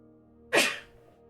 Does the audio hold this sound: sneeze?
yes